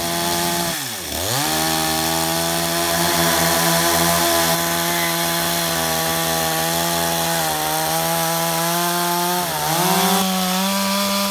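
A chainsaw runs steadily and loudly nearby, carving wood for a drum in Carriacou, its engine note dipping briefly as it bites into wood, then holding a constant roaring whine.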